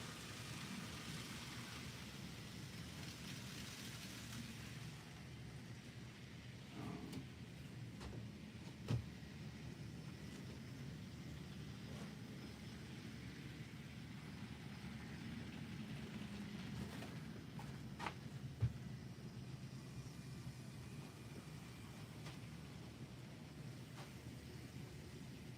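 An N scale model train runs fast up a helix with a steady, faint rolling hum and occasional small clicks and ticks from the track throughout.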